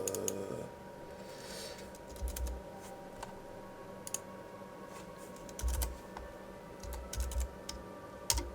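Keys on a computer keyboard are typed into a calculator in short bursts of soft clicks, with pauses between the bursts, against a quiet room hum.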